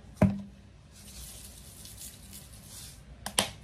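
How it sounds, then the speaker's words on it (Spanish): Two teaspoons of water added to onion, garlic and serrano chiles in a blender for salsa, a faint trickle and pour between two sharp clunks at the start and end. "Al igual le agregamos dos cucharaditas de agua"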